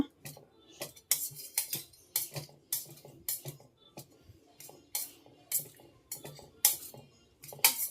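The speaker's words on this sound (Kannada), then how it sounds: "ಇದನ್ನ ನೀಟಾಗಿ ಫುಲ್ ಸಣ್ಣಗೆ ಸ್ಮ್ಯಾಶರಿಂದ ಸ್ಮ್ಯಾಶ್ ಮಾಡ್ಕೊಂಡೋಣ" A masher presses cooked spinach in a pot, giving a dozen or so rhythmic metallic taps and soft squelches, close and fairly quiet.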